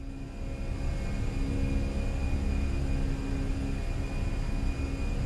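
Fenix A320 jet engines at climb thrust in Microsoft Flight Simulator make a steady, continuous roar with a deep rumble and faint sustained whine, unbroken and even throughout.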